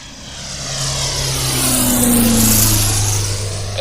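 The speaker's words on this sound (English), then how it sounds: "the hum of the engine as you soar off into the wild blue yonder" A light aircraft engine drones steadily during takeoff, a loud continuous propeller hum that swells and holds its pitch for several seconds, with no one speaking.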